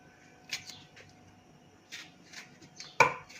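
A knife chops tomatoes on a cutting board in a few soft, irregular strokes, faint and close, with one sharper knock near the end.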